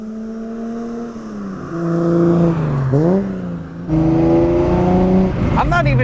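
Datsun 240Z on the move, its engine climbing through the revs, dropping briefly at gear changes and pulling again, heard up close from inside with a voice talking over it.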